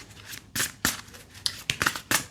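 A deck of tarot cards being shuffled by hand, with several short, crisp riffling bursts spaced irregularly and close by in a quiet room.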